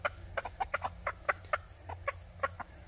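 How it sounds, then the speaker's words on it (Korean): Hens cluck rapidly while pecking at bread, the short sharp clucks tumbling over one another in quick bursts above a low steady hum, close by, with no talking. "암탉들이 와요. 쪽쪽쪽쪽쪽 소리를 내죠."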